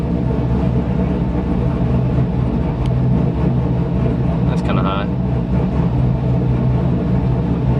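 A 2010-2015 Chevrolet Camaro SS V8 idles with a steady, deep rumble close by, while someone talks over it throughout.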